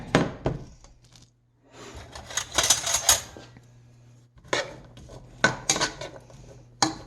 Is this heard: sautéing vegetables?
yes